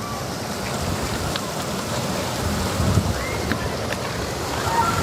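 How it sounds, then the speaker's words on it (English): Steady outdoor wind rushes and buffets the microphone, a broad constant roar with faint sounds in the background. "Yeah, it's windy too."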